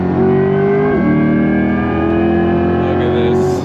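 A Chevrolet C8 Corvette E-Ray accelerates hard on throttle, its engine note climbing loud and close inside the cabin, with a brief dip in pitch at a shift before the note rises again.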